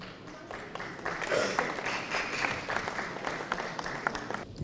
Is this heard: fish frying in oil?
no